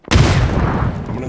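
A grenade blast in the PUBG battle-royale game on the Miramar desert map, a single sharp boom that rolls into a long, loud rumbling decay.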